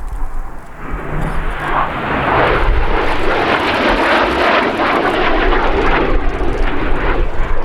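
A Swiss Air Force F/A-18 Hornet jet fighter flies a display at the 2012 Waddington Airshow. Its loud, broad jet roar swells and holds as the fighter passes.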